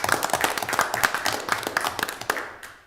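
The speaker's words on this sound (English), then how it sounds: "let's give a round of applause." A round of applause at a planning commission meeting, steady clapping from a room of people that fades out at the end.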